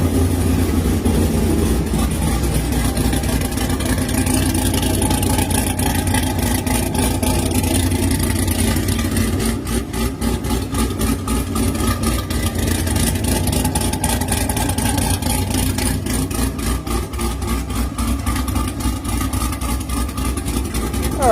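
A supercharged LT4 car engine idles steadily while warming up, a loud, continuous low rumble with a faint flutter, and voices talk briefly over it.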